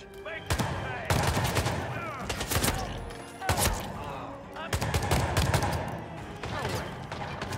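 Sharp bursts of gunfire crack repeatedly in Hitman: World of Assassination, loud shots in clusters separated by brief pauses, while voices shout and talk underneath.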